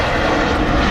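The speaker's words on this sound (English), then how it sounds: "I'm just on the roll back to Amsterdam with a 16-year-old KLM 737-800" A 16-year-old KLM Boeing 737-800 on its takeoff roll at Manchester Airport, bound for Amsterdam, gives a very loud, close, steady engine roar that fills a brief moment.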